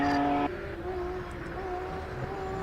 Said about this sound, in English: You feel the anti-lag in that car, and you feel it through your bones.